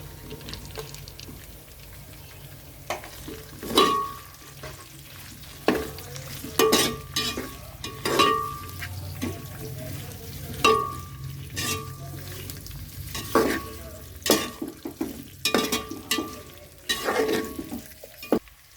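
Coarsely cut onion and capsicum frying in a pan with fenugreek, a steady sizzle broken by repeated scrapes and clinks of stirring, close and alone with no talk.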